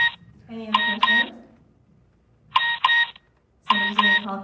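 A phone's electronic ringtone sounds nearby in three loud bursts, each a quick pair of bright chiming tones separated by short pauses.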